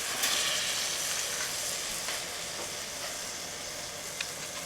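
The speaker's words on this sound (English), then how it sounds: "Start melting that 4 ounces of butter." Four ounces of butter melting in a hot pan for braised kohlrabi with mustard, giving a steady soft sizzle and hiss with small crackling pops throughout.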